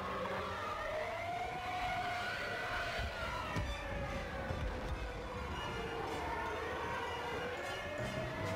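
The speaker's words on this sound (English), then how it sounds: "I'm not surprised that would be the sound of the TIE engines" TIE fighter engines in the Star Wars Battlefront video game give a dense, wailing, siren-like whine that rises and falls continuously over rumbling battle noise.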